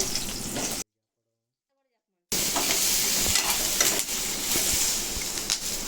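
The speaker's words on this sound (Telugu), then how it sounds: "మనం కట్ చేసుకున్న ఉల్లిపాయలు ఆయిల్లో వేసేసుకోవాలి" Thinly sliced onions sizzle in hot oil, a close, bright hiss with scraping stirs, cut by a silent gap of about a second and a half before the frying resumes.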